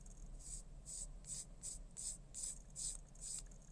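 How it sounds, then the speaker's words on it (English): A sanding stick rubs back and forth over a small plastic model kit part, eight evenly spaced, quiet scratchy strokes close up in a rhythmic sequence. "I will need to probably change the sandpaper on my sanding stick here"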